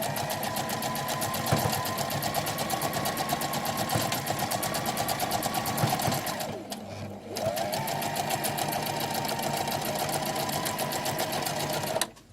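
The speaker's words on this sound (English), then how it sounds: "I brought you over to my sewing machine" A sewing machine runs steadily, stitching tilda doll fabric, with a fast, even mechanical whir close by that pauses briefly midway and then resumes before stopping.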